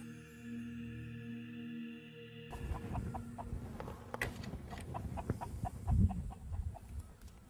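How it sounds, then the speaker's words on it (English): Chickens cluck close by in a farmyard, several short clucks and calls scattered over a few seconds after a quiet start, with no speech. "Chicken."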